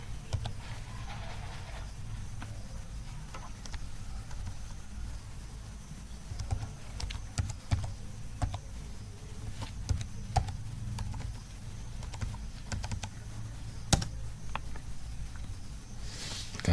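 Soft keystrokes as a password is typed on a computer keyboard, scattered light clicks over a low steady room hum.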